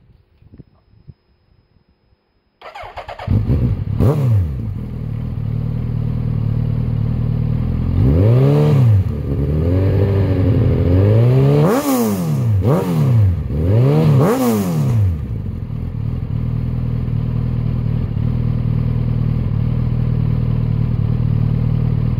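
A 2010 Suzuki Hayabusa with a Yoshimura exhaust cranks and starts after a quiet moment, then settles into a loud, close idle broken by several sharp throttle blips that rise and fall before it holds a steady rumble.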